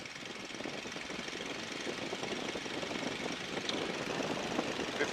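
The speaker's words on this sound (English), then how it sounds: "I'm going to check the engine. So I'm going to bring the power on up." A light aircraft engine running up on the ground before a first flight, a steady loud droning rumble with a slight rise in power and no pauses.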